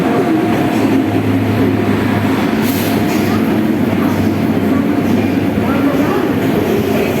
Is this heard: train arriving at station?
yes